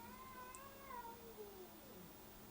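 A cat meows in long, drawn-out, rising and falling wails, sounding agitated, fairly distant over a low steady background hum.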